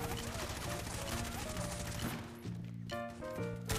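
Gunfire in an offline Android first-person shooter game, with bursts of shots against enemies mixed into a busy game soundtrack with tonal music lines, fairly steady and loud throughout.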